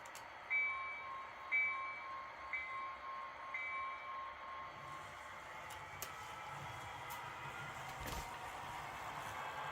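Quiet HO scale Kato SD40-2 model locomotive sounds: short electronic whistle or horn toots and mechanical clicks, then a soft motor hum as the small locomotives start up.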